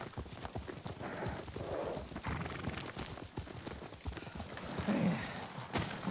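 Horse hooves clip-clop at a steady trot while riding at night in the video game Ghost of Tsushima, close and rhythmic, with a brief whinny partway through and no talk over it.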